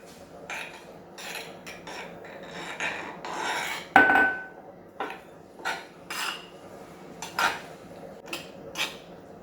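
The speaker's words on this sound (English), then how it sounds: "I am adding 200 gram of suji or fine rava into this." Dry semolina (suji, fine rava) stirred into 200 ml of curd in a bowl, giving scraping, rasping spoon strokes against the dish in irregular bursts with one sharper clink, close and fairly quiet with no talking.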